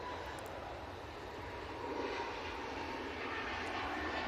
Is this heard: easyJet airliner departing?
yes